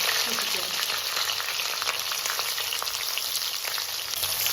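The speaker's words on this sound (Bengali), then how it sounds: "পেঁয়াজটা আমি ভালো করে ভেজে নিই" Small onions fry in oil for chicken tehari, a steady soft crackling sizzle with faint scattered pops, fairly quiet and uninterrupted.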